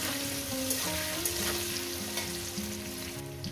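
Salted potatoes fry in a pan, giving a steady close sizzle that runs throughout, with faint scraping and clinking from stirring.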